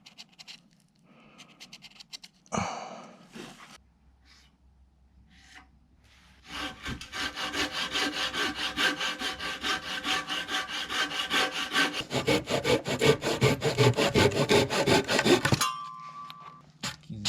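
Hand sawing of wooden lumber for a DIY house foundation replacement, starting with a few light taps and scrapes, then several seconds of rapid back-and-forth rasping strokes, close and fairly loud, ending abruptly.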